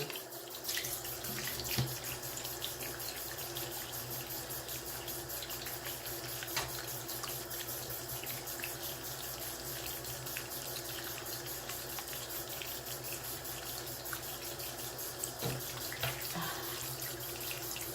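A tap runs steadily into a sink for the whole stretch, a constant broadband splash with small shifts as makeup brushes are rinsed under the stream.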